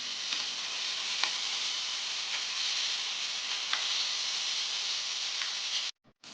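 Turmeric and tomatoes cook with ridge gourd in a pan for a chutney, giving a steady, close sizzle and frying hiss with a few faint stir clicks, and no voices, before it cuts out briefly at the end.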